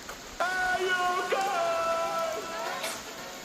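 Rain falls on a hike to a waterfall, a steady broadband hiss that carries throughout, with a thin, wavering tonal whine sitting over it.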